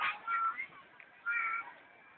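A cat gives two soft, faint meows about a second apart, heard alone in a quiet setting.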